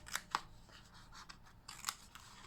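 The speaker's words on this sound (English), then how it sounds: "I'm actually going to use my scissors this time, so I'm just going to pierce a hole through the middle" Scissors pierce and snip through card stock in a few sharp, quiet clicks and short cutting strokes, close up in a calm papercraft setting, with no one speaking.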